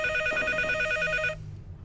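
An old-style telephone bell rings steadily and loudly for over a second in a home during a Syrian TV drama scene, then cuts off abruptly, leaving a quiet room.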